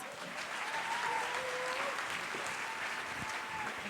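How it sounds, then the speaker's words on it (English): Audience applause at a congress session, a steady sustained clapping from a crowd that fills the whole stretch at an even level, with no one talking over it. "Give her a round of applause."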